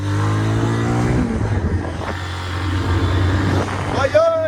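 A vehicle starts up and pulls away on a rural road, its engine rising from a low idle hum into revving under voices talking nearby.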